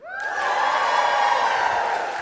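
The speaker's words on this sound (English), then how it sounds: "Give me a cheer if it's Caribou" A church audience cheers for Caribou with a sustained, loud burst of shouts and whoops that swells in quickly and holds steady to the end.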